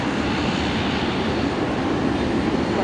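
Qatar Airways airliner taxiing along a taxiway at Brisbane Airport, a steady, continuous jet engine roar with broad rumble, moderately near and unbroken throughout.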